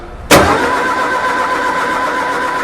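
A fuel-injected car engine with its spark plugs removed cranks over to build oil pressure, a loud starter whir kicking in abruptly and then spinning steadily with a smooth, even drone.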